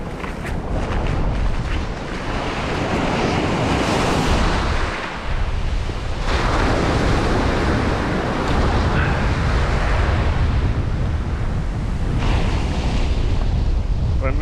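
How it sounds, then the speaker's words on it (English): Sea waves surge and break on a remote Northumberland beach with deep water close in, a continuous loud roar of surf and wind buffeting the microphone. "Oh, some good waves there."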